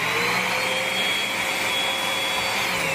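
A Festool CT15 dust extractor runs at a steady, loud, close whine with constant airflow roar throughout, no talk.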